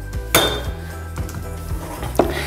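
A spoon knocking and scraping against a bowl while stirring a honey mixture, a series of sharp clinks and duller taps at an uneven pace, close and clear with no talking.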